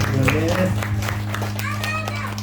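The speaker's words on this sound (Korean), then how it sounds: "우리 하나님께 영광의 박수를 드리겠습니다." Congregation applauding during a Sunday worship service in a Korean church, scattered hand claps over a steady hum, with voices and children audible in the room.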